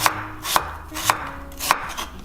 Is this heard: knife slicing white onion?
yes